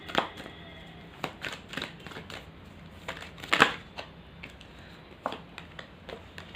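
Tarot cards being handled and cleared: a steady run of soft, dry taps and shuffling flicks at close range, quiet and irregular with a few sharper snaps.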